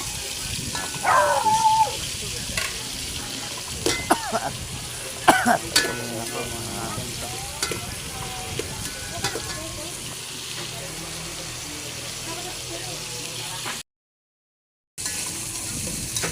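Garlic sautés in a pan for chicken sinigang, with a steady sizzle broken by stirring scrapes and clatter, a dog barking faintly in the background, and a short silent gap near the end.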